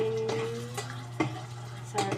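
Sardines sautéing in a pan for a leafy vegetable dish, faint sizzle with brief stirring clicks and scrapes of a utensil, close by.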